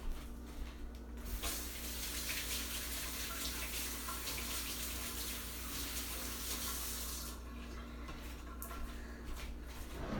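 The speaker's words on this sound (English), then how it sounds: "Let me wash my hands." Tap water runs steadily into a kitchen sink while hands are washed under it, a continuous splashing hiss that thins out near the end, heard close and fairly quiet with no talking.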